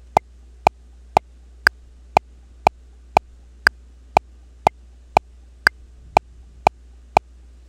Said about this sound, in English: I then have a click track